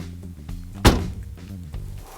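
A single chunky, solid thud struck on the body of a Tesla car being played like a drum, sharp and close, standing out over a low background hum.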